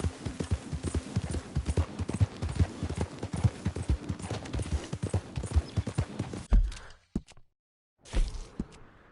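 Rapid, rhythmic clip-clop of horse hooves on a hard surface in the video game Red Dead Redemption, loud and close, then the hoofbeats stop abruptly and a brief silence follows.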